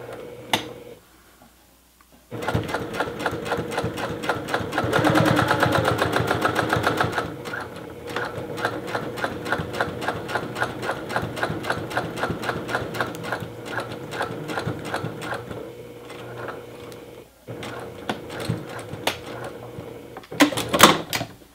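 A sewing machine runs through a T-shirt seam for top stitching, its rapid mechanical needle clatter coming in several loud bursts with short pauses between them, close and alone without any talk.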